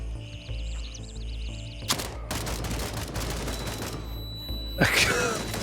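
Gunfire in an ultra-realistic first-person shooter video game, sharp bursts of shots and a fusillade close by, with a loud crack near the end, over game ambience.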